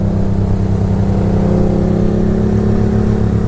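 Suzuki motorcycle engine heard while riding: a loud, close, continuous buzzing drone at a steady pitch with no pauses.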